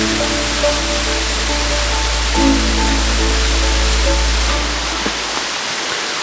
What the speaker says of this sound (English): So it's a proper secluded little waterfall